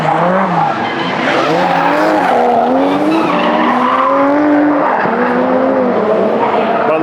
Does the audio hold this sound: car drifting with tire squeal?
yes